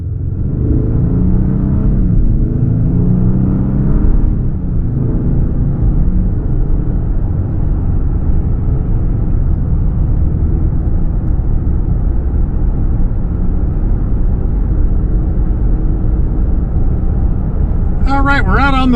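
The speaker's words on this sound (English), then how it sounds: "we're out on the road in this 26 Explorer Tremor" A 2026 Ford Explorer Tremor 4x4 SUV cruising on the road, a loud, steady low cabin rumble of engine and tire noise throughout.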